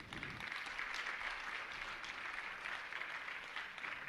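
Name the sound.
audience clapping at religious gathering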